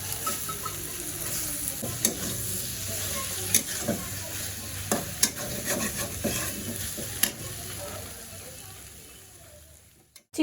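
Snake gourd stir-fries in a pan with a soft, steady sizzle and intermittent scrapes and clinks of a spatula, heard up close; the sizzle fades near the end.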